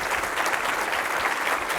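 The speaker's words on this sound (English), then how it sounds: "could we just give her a round of applause?" Steady round of applause from an audience at a chamber of commerce annual meeting, dense clapping held at an even level without a break.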